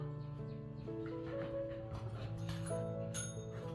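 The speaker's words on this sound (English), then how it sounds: "Abra, ring the bell" A border collie rings a bell during trick training, giving a few bright metallic dings over a steady background of tonal hum, close and clear.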